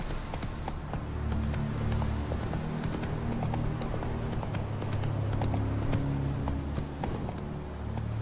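Galloping hooves of the horse Roach in The Witcher 3, a steady rapid clip-clop rhythm running continuously at close range over a low musical game soundtrack, with no talking.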